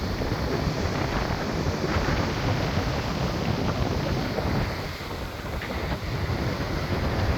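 Steady, roaring wind at sea buffets the microphone without a break, a broad rushing noise that muffles everything else, with no voices.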